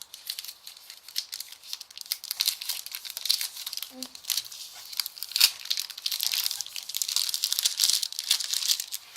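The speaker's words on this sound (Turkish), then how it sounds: "Beyaz çikolatalı gofret şöyle. Açalım arkadaşlar açalım." Crinkly plastic wrapper of a white chocolate wafer being torn open and handled, a run of close, dense crackling and rustling that comes in bursts over several seconds.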